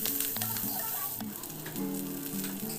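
Curry leaves and ginger-garlic paste sautéing on a low gas flame with onions for daliya khichdi, a steady close sizzle with light stirring, while background music plays.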